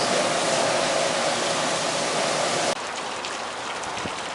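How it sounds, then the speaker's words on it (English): Tap water rushing steadily from a faucet through a homebrew wort chiller, a loud continuous hiss that drops abruptly to a quieter flow partway through, no talk. "now we're chilling down with the wort chiller. Got it hooked up to my faucet."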